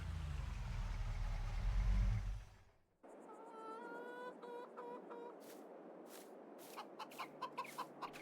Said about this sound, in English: Yeah, so I got some chickens here already.